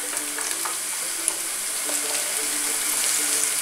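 Cooked calamarata pasta water pours and splashes steadily into a kitchen sink, a close, continuous hissing rush with no voices.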